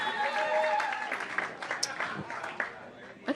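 Audience applause and cheering at a stand-up comedy show, greeting a DJ; dense steady clapping with scattered shouts and whoops, fading slightly toward the end with a few louder bursts.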